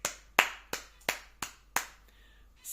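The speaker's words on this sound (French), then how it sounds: "faire des applaudissements depuis le centre de la pièce" Single sharp hand claps made from the middle of a room to test its acoustics, six crisp evenly spaced claps about a third of a second apart, each followed by a short ringing decay of room reverberation.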